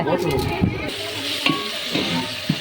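Tomatoes sizzle and hiss steadily in a hot pan, with a few soft scrapes and clinks of a spoon stirring, close and continuous.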